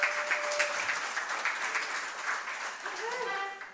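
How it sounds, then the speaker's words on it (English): Crowd applause during a post-game coach talk show. A steady wash of clapping runs throughout, and a voice begins speaking over it near the end. "How about a round of applause,"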